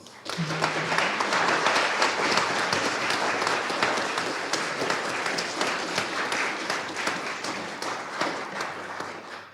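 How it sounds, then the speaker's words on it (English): An audience at a medical college membership ceremony claps in sustained, even applause that swells quickly and holds at a fairly full level before easing slightly toward the end. "So I think that calls for another round of applause."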